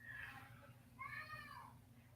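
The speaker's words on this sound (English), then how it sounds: "Do you have the cat locked in a closet?" A cat meows twice, a short call then a longer rising-falling one, fairly close over a steady low hum of a room, with faint talk in the background.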